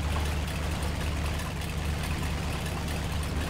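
A truck engine in the off-road driving game Mudrunner idles at low revs, a steady, deep rumble that stays constant and alone throughout.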